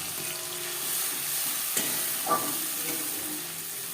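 Tomatoes, green chillies and dried red chillies sizzle steadily in hot oil with cumin seeds for a fish curry, with a couple of soft stirring clacks over the continuous frying hiss.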